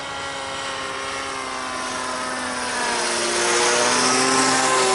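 A HobbyKing SuperG RC autogyro in flight gives a steady buzzing motor and rotor whine with a droning tone that grows louder toward the end as it comes closer.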